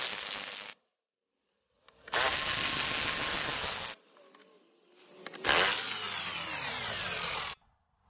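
Bolts on the side panel of a Yamaha FZ6R 600cc four-cylinder motorcycle are backed out with a T25 power driver in three loud whirring bursts, with quiet gaps between them.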